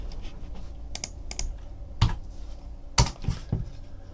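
Sparse keyboard typing during an online case break setup: a few scattered sharp clicks, with the clearest strikes around two and three seconds, over a low room hum and faint background noise.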